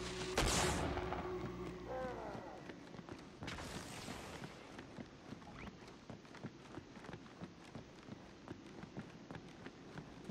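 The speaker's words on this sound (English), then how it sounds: "I'm being shot at from a brute shot." A Brute Shot weapon fires in Halo 2 Anniversary with two loud, heavy blasts a few seconds apart. A steady run of quick footsteps and low battle noise follows.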